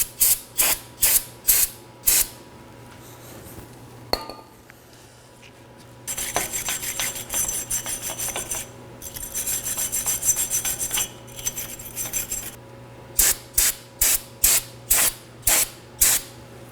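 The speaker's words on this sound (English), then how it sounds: "take some brake cleaner and a wire brush to clean my mating surface" Short bursts of brake cleaner spray alternate with a long stretch of scratchy wire brushing on a Chevrolet Equinox wheel hub surface, then more quick hissing sprays in a rapid series, close up.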